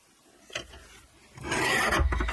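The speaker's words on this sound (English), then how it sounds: "So I am just going to cut this into my 4 inch strips first." Paper being cut into 4-inch strips with a paper trimmer, a short scrape followed by a longer, louder rasping slide of the blade, close and with no talking.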